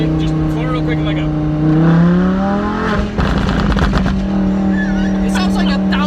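A turbocharged 2003 Mustang making about 560 rear-wheel horsepower roars under hard throttle, then lets off and crackles with a rapid burst of exhaust backfires like automatic gunfire, loud and close inside the car, with passengers talking.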